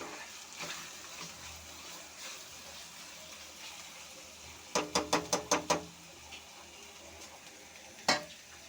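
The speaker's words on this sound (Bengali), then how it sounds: "ভালো করে কষিয়ে নেব।" Cumin paste and spices fry in a pan for capsicum chicken curry, a soft steady sizzle broken by a quick run of five or six sharp scraping stirs and one more later.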